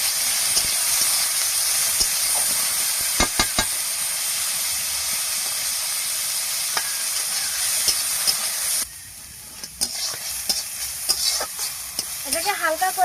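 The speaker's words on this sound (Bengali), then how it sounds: "এবার সিদ্ধ করে রাখা মাছগুলো এর মধ্যে দিয়ে দেবো, দিয়ে এটাকে ভালো করে নেড়ে চেড়ে ভালো করে নেড়ে চেড়ে নেব" Boiled fish is stirred into bamboo shoot chutney in a pan, with a steady frying sizzle and hiss plus scattered scraping clicks of the stirring utensil; the sizzle drops off partway, leaving quieter intermittent scrapes.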